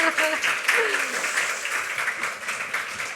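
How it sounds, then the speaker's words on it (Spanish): Audience at a Spanish book presentation applauds, a moderate round of clapping heard close, with a voice briefly speaking over the start before the clapping carries on alone. "pero podéis aplaudirla."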